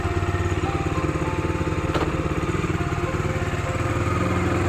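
A Bajaj Dominar 250 motorcycle engine runs close by with a steady, throbbing low pulse, and a brief sharp click sounds partway through; no one speaks.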